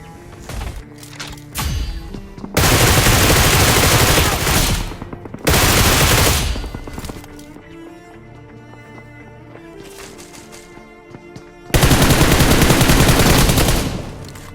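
Bursts of M4 rifle gunfire in the BGMI mobile game, several loud rapid volleys separated by quieter stretches of game sound, with no talk.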